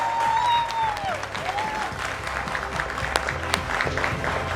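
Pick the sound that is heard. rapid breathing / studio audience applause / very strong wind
studio audience applause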